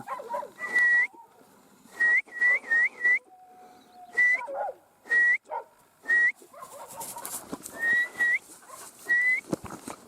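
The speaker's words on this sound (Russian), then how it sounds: "Чё она там лает?" A Laika dog out in the taiga gives repeated high, yelping barks in short bursts, close and loud, with quieter whines and rustling in the gaps between them.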